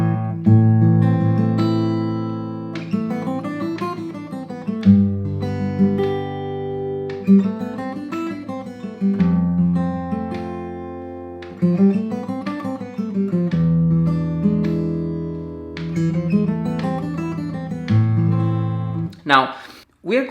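Acoustic guitar plays a Spanish-style chord progression with a picked melody woven through the chords, in steady repeating phrases, close and clear, with no voice.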